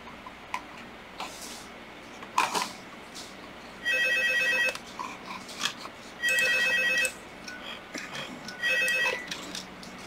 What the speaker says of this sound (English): Let's hear the phone.